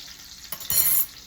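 Onions sizzle quietly in a skillet, with a soft stir and a brief scrape near the middle that briefly brings the frying up louder before it settles. Nobody speaks.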